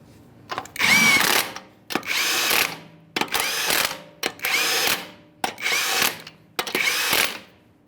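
Impact wrench or power drill spinning 21 mm wheel lug nuts on a Ford F-150, six loud close bursts of whirring in a steady rhythm, each about a second long with short pauses between.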